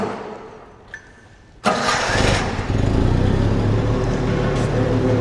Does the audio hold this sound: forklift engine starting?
yes